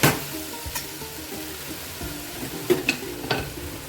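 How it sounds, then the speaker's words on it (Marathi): Raw mango pieces sizzle steadily in hot ghee while being stirred, with a soft continuous frying hiss broken by a few sharp scrapes and clinks of the spoon against the pan. "तुपामध्ये आता जी कैरी आहे ती सर्व घालूया आणि आता आपण कैरी चांगली परतून घेऊ"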